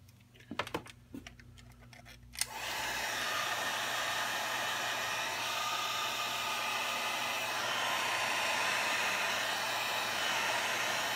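Heat gun switched on after a few light clicks, then a steady, loud whooshing roar of hot air blown over alcohol inks, continuous and unchanging to the end.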